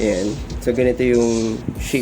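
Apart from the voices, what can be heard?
None of the usual background noises is heard.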